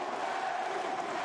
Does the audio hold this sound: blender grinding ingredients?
no